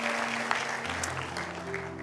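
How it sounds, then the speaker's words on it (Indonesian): A church congregation claps together during an Ascension Day service, a dense, steady wash of applause lasting about two seconds with a faint tonal hum underneath. "Tepuk tangan buat Tuhan Yesus ya."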